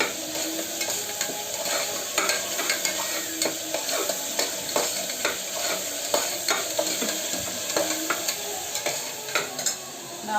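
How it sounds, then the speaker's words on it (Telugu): Fresh mint leaves frying in a pan of hot oil for egg biryani, a steady close sizzle broken by regular clinks and scrapes of a spoon stirring throughout. "ఇక పుదీనా కూడా వేసేసాను. ఇక్కడ బాగా వేగుతుంది."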